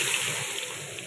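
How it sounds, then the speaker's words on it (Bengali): Salted, turmeric-coated rohu fish pieces fry in hot oil, giving a short, loud, even sizzling hiss close to the pan. "নুন হলুদ মাখানো কাটাপোনা মাছগুলো আগে ভেজে নেব।"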